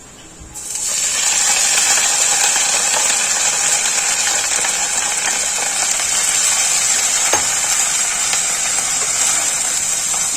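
A loud, dense sizzle bursts in after a quiet moment as drumstick leaves go into frying oil, continuing steadily, crackling close up with a sharp tap partway through.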